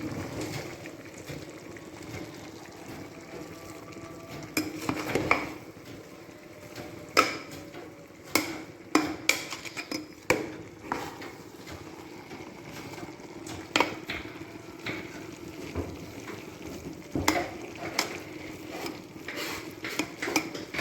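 Chicken biryani being stirred in a pot, with scraping and clinking of a spoon against metal coming in irregular bursts over a steady low background, close and moderately loud, with no voices.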